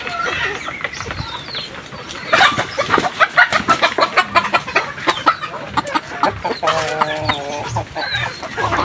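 Native chickens clucking nearby on a farm, with rapid repeated clucks and squawks in loose bursts, loud and close, and a few people talking faintly in the background.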